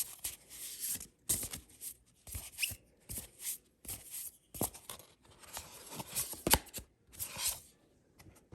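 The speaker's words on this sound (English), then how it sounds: "Let me shuffle really quickly, and I'm going to draw." An oracle deck of cards being quickly shuffled by hand, giving soft irregular bursts of riffling and sliding card noise, close and fairly quiet, with no voices.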